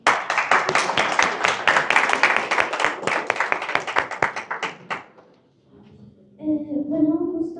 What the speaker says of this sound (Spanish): Un aplauso para nosotros.